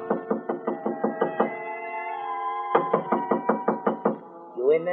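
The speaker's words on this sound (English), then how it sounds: "someone knocked on the door" Knocking on a door comes in two runs of about eight sharp, evenly spaced raps each. A sustained musical tone rings under the raps, and a brief voice follows at the end.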